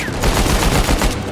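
Gunfire in Uncharted 4: A Thief's End, a loud dense burst of rapid automatic shots with explosive crackle filling the whole moment, no talk.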